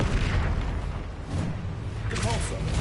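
Confringo fire spell exploding in the video game Hogwarts Legacy: a loud, booming burst that swells near the end over dense game noise, with a voice talking underneath.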